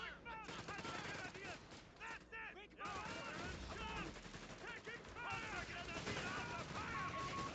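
Machine gun fire in Company of Heroes 3 rattles through a dense, continuous battle din, layered with shouted game voices and other combat noise for the whole stretch.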